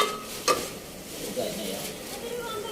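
Potatoes fry and get stirred in a pan in a home kitchen, soft sizzling with scraping stir strokes and a sharp clink near the start, with voices faintly in the background.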